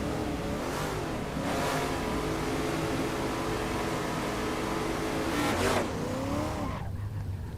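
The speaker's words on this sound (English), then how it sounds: "Lola T70, big 5-litre Chevy V8." A Lola T70 race car with a 5-litre Chevy V8 in Assetto Corsa revs hard and loud, its engine climbing and dropping through several gear changes before trailing off.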